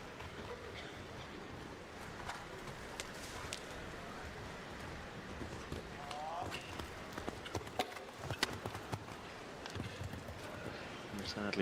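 Show jumping horse hooves on a 1.50m World Cup course, quick irregular thuds under commentary and arena crowd murmur, growing louder and denser toward the end.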